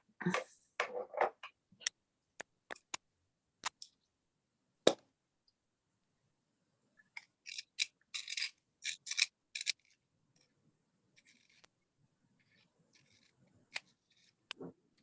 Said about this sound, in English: Try not to sharpen my watercolor pencils too much